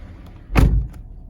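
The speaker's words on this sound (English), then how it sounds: "Let me close this door." A 2018 Toyota Corolla SE door swings shut with a single solid thud, close and fairly loud, followed by a faint latch tick in an otherwise quiet cabin.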